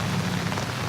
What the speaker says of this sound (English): And this is not a hell of a big rain.